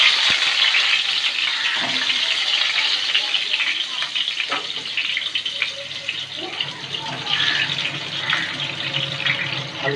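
Potatoes drop into hot oil in a pan and fry with a loud, steady crackling sizzle that fills the whole stretch, with occasional stirring clatter.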